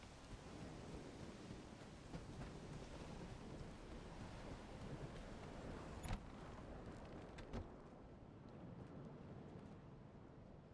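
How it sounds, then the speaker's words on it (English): A thunderstorm in the game S.T.A.L.K.E.R. 2: Heart of Chornobyl, with dense rain and wind noise throughout and a couple of sharp thunder cracks standing out near the middle and later, at low overall level. "It's like a storm."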